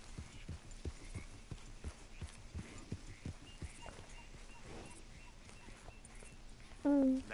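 Horse hooves clip-clop steadily in Red Dead Redemption 2, a regular quiet walking rhythm that thins out midway, followed by a short burst of game sound near the end.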